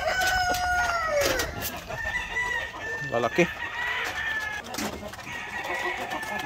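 Grey hens on a Filipino egg farm cluck and chatter close by, with a rooster crowing in bursts between them and a brief voice heard under the flock.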